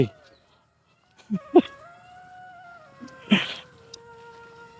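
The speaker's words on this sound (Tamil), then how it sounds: "மயில் கத்துது" A peacock calls with long, wailing, drawn-out cries over a quiet background, broken by a few short, sharp knocks nearby.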